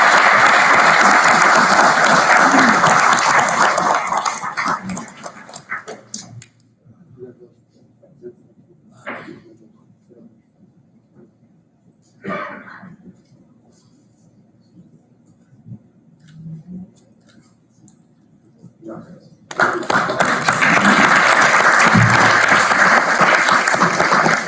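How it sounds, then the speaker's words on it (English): Audience applause at a 2019 company awards ceremony, a loud sustained burst of clapping that fades out, leaving a quiet stretch with a few faint knocks, before another full round of clapping swells up. "So round of applause."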